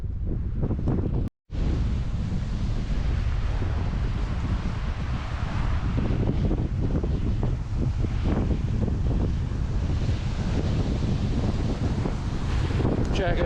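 Loud, constant wind roaring and buffeting the microphone in a Scottish glen near an abandoned 1500s farm, with a brief dropout near the start.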